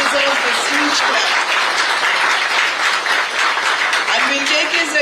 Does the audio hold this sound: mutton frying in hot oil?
no